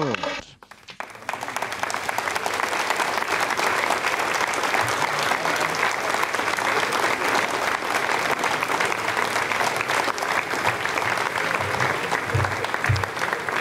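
Sustained loud applause and cheering from a crowd in a control room at the Ariane 5 launch of the Telkom 3S satellite, a steady roar of clapping lasting throughout.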